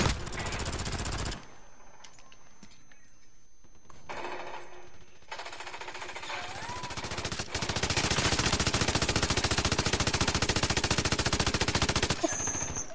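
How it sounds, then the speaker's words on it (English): Rapid automatic gunfire in a video game, long sustained bursts of shooting aimed at a decoy grenade, growing louder and more continuous toward the end with brief gaps between volleys. "Who the fuck is just shooting my decoy grenade?"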